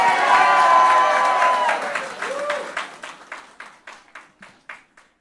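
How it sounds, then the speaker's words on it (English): Audience applause for President Mohamed Irfaan Ali at a gathering of Guyanese in the diaspora starts as dense crowd clapping mixed with voices, then thins out into sparse, separate claps that fade. "Give him a round of applause"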